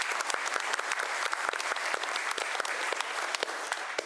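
Sustained applause from an audience at a city's State of the City address, dense steady clapping with no talk over it.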